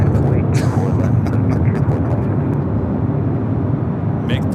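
Airliners at LAX, including a Boeing 737-900ER and an Embraer E-Jet, roaring on takeoff: a loud, steady broadband jet rumble fills the whole stretch, with brief higher whines near the start and end.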